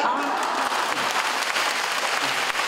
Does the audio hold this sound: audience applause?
yes